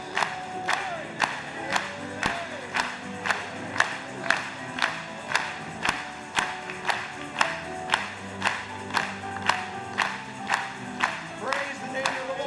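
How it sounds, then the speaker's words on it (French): A church congregation clapping in a steady rhythmic beat, about two claps per second throughout, with cheering voices and singing underneath. "Acclamons pour lui."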